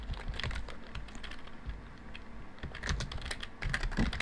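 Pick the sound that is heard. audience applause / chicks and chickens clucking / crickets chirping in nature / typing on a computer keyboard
typing on a computer keyboard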